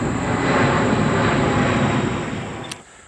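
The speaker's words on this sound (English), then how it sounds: "Big plane." A big airplane drones overhead in an outdoor garden, a steady broad roar that fades slightly toward the end, with no talking.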